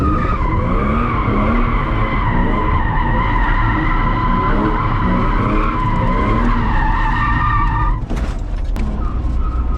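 Drift car tires skidding as they are heated up, a loud, sustained squeal with a whining engine underneath, close and continuous, broken by a brief harsh burst near the end.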